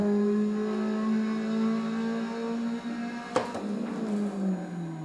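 A racing video game car engine on super-soft tyres revs with a held, droning tone that falls in pitch, then a sharp click and a brief burst of noise before the engine note resumes.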